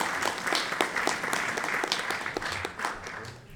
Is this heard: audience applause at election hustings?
yes